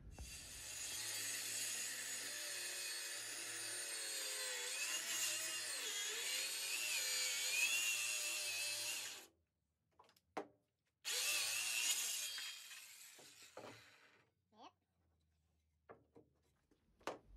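Power tool cutting an angle on a long wooden board for a squaredrop tiny camper build, a loud, sustained whining cut with wavering pitch, then a brief restart and a few scattered knocks and clunks.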